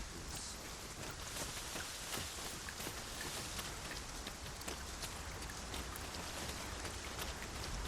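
Steady rain pours throughout in the Dragon's Dogma 2 video game, a dense, even hiss of falling drops at an outdoor campsite, continuous and fairly loud with no talk over it.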